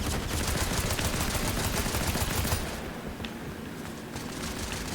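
Video game gunfire roars in dense, rapid bursts, loud and close for the first few seconds, then drops to a quieter, sparser crackle of shots.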